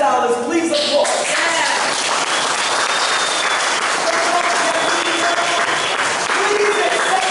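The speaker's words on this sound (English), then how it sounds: "Please applaud." Sustained audience applause at a town gathering in Accompong Town, Cockpit Country, steady and dense throughout, with some voices and speech mixed in over the clapping.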